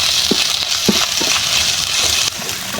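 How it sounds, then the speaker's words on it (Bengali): Garlic, ginger and cumin paste frying in a pan gives a steady sizzling hiss, with a few soft stirring scrapes and knocks over the continuous crackle. "দিব আধা চামচ জিরা বাটা, দিয়ে আমি এগুলোকে ভালো করে ভেজে নিব।"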